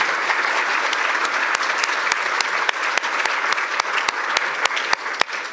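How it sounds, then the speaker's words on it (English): An audience applauds judicial candidates for Orange County judgeships at a forum; the clapping is loud and steady, with sharp individual claps standing out near the microphone, and no one speaks over it. "Let's give them a round of applause."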